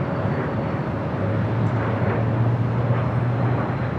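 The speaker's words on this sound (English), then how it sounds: "the 767 coming in from JFK" A Boeing 767 jet on approach into Los Angeles airport gives a continuous, fairly loud engine roar with a low droning tone, steady throughout.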